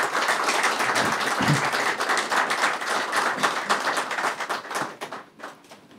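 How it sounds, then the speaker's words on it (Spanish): A crowd at a church ceremony applauds Monsignor Sorto, newly named military ordinary bishop: dense, sustained clapping that stays loud and unbroken before fading slightly at the end. "Un aplauso a Monseñor Sorto, por favor"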